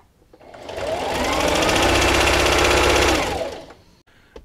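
A sewing machine stitches a fleece blanket in one steady, close run of about three seconds, speeding up smoothly, holding a fast even whir, then slowing to a stop, with no talking.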